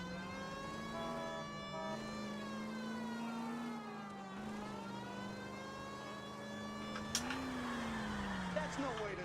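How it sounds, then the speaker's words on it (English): Police car siren from the video game L.A. Noire wails steadily and loudly throughout, its rising and falling tone running without pause beneath game engine noise. "We might get there quicker if you use the siren."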